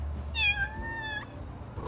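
Cat meowing in the Little Kitty, Big City video game: a single clear, close meow, drawn out for under a second, over a quiet background.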